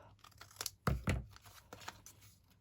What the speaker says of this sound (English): I'm going to use my credit card to cut the top.